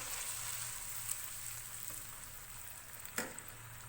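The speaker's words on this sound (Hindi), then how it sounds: "लहसुन अदरक फ्राई करने के बाद मैं इसमें टमाटर का जो पेस्ट बनाया था वो डालूंगी।" Garlic and ginger with tomato paste frying in a pan for chicken shashlik, giving a steady, soft sizzle throughout, with a faint clink near the end and no voices.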